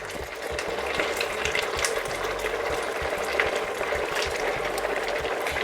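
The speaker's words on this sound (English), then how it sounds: "It's gonna be boiling for a few minutes" Broth for a Spanish paella boils in the pan, a continuous soft bubbling and crackling simmer at close range, steady throughout with no talking.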